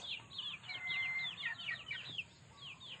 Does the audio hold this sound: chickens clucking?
yes